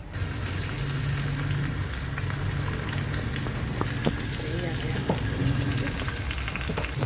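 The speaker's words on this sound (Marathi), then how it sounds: "आता मी त्याला वरून तडका देते आहे" Tempering of spices sizzles loudly as it is poured over cooked toor dal with spinach and garam masala, a steady crackling fry that holds evenly throughout.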